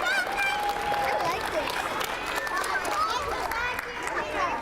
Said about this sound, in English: let's give Catherine a round of applause